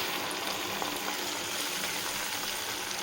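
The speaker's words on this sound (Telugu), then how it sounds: "ఈ టొమాటో ప్యూరీని వేసుకొని వేయించుకుందాం" Tomato puree frying in hot oil with ginger garlic paste for a road-side chaat: a steady, even sizzle and hiss that holds without pause throughout, with no voices.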